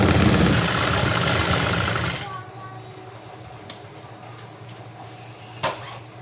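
Sewing machine stitching a palazzo runs loud and steady for about two seconds, then stops, leaving quiet room tone with a faint click or two.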